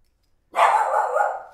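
A pet dog newly settled in an apartment lets out one drawn-out bark-howl, close and loud after silence, fading over about a second with no talking.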